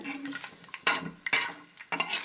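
Garlic fried in a pan with two spoons of oil and dried red chillies for a bottle gourd chutney: sharp metallic clatters of a spatula against the pan come in several bursts over a light sizzle, with no talking.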